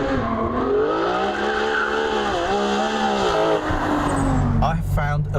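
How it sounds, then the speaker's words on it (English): A Ferrari 599 GTO accelerates hard, its loud engine note climbing in pitch, dipping briefly at a gear change, then rising again before easing off. "I found a brand new musical instrument. It's called a Ferrari 599 GTO."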